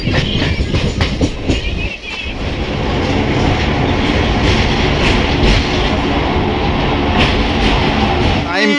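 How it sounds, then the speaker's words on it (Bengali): A local train pulls in and runs past a station, its loud, close wheels clattering in a steady clickety-clack rhythm with brief squeals, and people talking faintly under the noise. "আমাদের দেখো লোকাল ট্রেন এসে গেছে"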